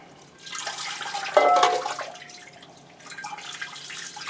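Water poured to soak a potted orchid that is starting to dry, a soft splashing, trickling stream rising and fading in two bursts, close and moderate in level, with no talking.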